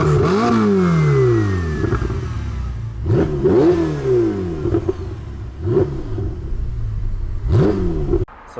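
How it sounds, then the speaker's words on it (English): A Ferrari 488 Spider engine revs hard several times, each burst rising sharply then falling away, loud and close with brief pauses between. "show y'all what it sounds like when a 488 is revving."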